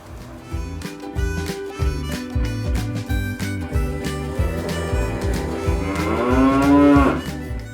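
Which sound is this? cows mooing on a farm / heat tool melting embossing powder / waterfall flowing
cows mooing on a farm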